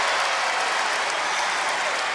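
Steady, dense applause and cheering from a basketball arena crowd at a college game between Troy and Ole Miss, a continuous broadband roar throughout with no clear speech.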